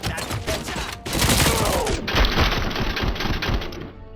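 Rapid bursts of gunfire and explosions in the video game RoboCop: Rogue City form a dense, loud crackling barrage, up close and with no talk.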